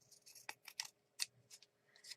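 Fabric scissors snip through fabric at a craft table, a quiet run of short crisp cuts arriving in irregular bursts, fairly faint and close, with no talking.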